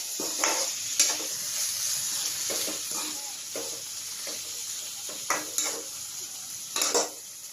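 Eggplant sisig is stirred in a sizzling frying pan, a steady close fry hiss broken by repeated clinks and scrapes of a utensil against the pan in an uneven rhythm.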